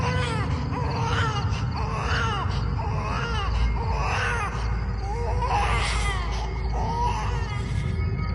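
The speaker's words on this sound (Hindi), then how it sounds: "एक बच्ची जैसी रोने की आवाज, धीमी लेकिन दर्द भरी।" A young girl's soft, pained crying in a horror story, a series of drawn-out, wavering sobs and wails rising and falling over a steady low background drone, with no talk.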